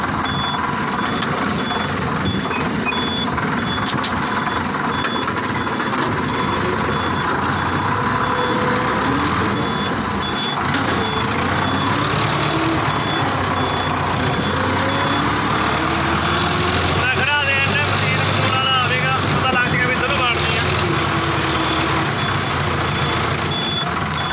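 A heavy diesel tractor engine runs steadily up close for the whole stretch, with a faint repeating beep sounding over the rumble.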